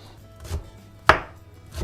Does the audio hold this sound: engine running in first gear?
no